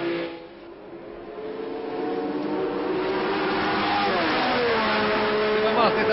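Open-wheel racing cars at the 1963 Monaco Grand Prix pass with rising, high-revving engine whines that swell and shift pitch as they approach, heard under a French commentator's continuous talk.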